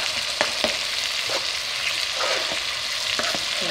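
Sliced potatoes fry in a pan with onion, giving a steady oily sizzle. Soft scraping and stirring clatter sound now and then, up close, with no talking.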